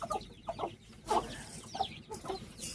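A mother hen clucks in short, uneven bursts, several calls spread over a few seconds, close by with faint farmyard background and no speech.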